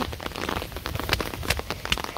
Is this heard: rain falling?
yes